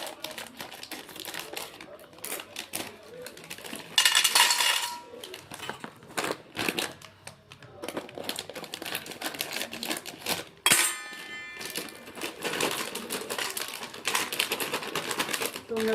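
Kurkure snacks being cut up for chaat, with crisp crinkling of the packet and snack pieces alongside rapid clicking snips, close and fairly quiet, while a voice talks over it.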